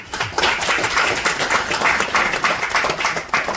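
Steady applause from a crowd at a picnic, a continuous dense patter of many hands clapping at moderate distance with slight swells in intensity.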